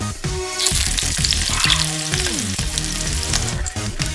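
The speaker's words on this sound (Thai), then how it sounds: "จะเทน้ำมันลงไปนะ ในกระทะแบบนี้ ทีเดียวพอครับ ไส้กรอกจะเอาลงกระทะ" Steady, loud sizzling of sausages frying in hot oil in a pan over low heat, continuous crackle with occasional utensil scrapes, no voices.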